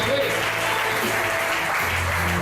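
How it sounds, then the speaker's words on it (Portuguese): Church congregation at a Holy Communion service clapping in praise, a steady wash of applause from many hands with a voice speaking over it. "Você pode dar uma salva de palmas ao Senhor Jesus?"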